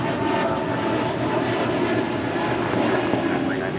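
An airliner's engines roar steadily on takeoff from Los Angeles International Airport, a loud continuous broadband rumble, while air traffic control radio talk is heard over it.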